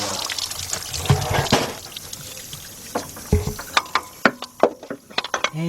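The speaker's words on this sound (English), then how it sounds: "Hot water." Hot water gushes and splashes out during a radiator and timing belt job on a Chrysler-family vehicle, then breaks into dripping and sharp trickling spatters, close by.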